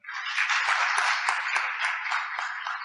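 A seminar audience applauds a lecturer at a Thai panel discussion on data and poverty, a dense, steady burst of many hands clapping for about three seconds, fairly loud and close, fading slightly at the end.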